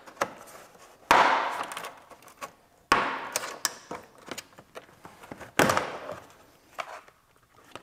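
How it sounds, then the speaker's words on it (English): Plastic pry tools popping the trim clips of a sill plate on a 2010-2015 Lexus RX350, heard as close, sharp snaps and cracks amid scraping and rattling trim handling, with several louder pops spaced irregularly. "we'll start out by removing the sill plate. Again, we'll use our plastic pry tools"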